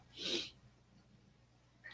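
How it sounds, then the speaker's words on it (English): A single quick, breathy burst near the start, like a stifled sneeze close to the mic, then near silence with a faint hum. "I think I gotta sneeze, guys."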